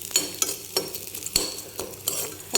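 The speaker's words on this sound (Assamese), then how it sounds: "ঘিউখিনি গৰম হোৱাৰ পাছতে অলপমান গমো মই ভাজি লৈছোঁ।" Wheat grains frying in hot ghee in a pan, with a spoon stirring them in repeated scraping strokes over a steady close sizzle for making laddu.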